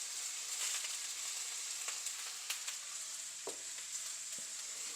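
Cabbage sautéing in a pan with turmeric and spices gives a soft, steady sizzle with a few light stirring scrapes and crackles, fairly quiet and without talk.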